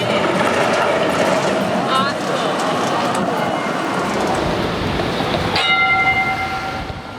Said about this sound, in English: Today, the Z-Class trams are among the oldest vehicles still in regular service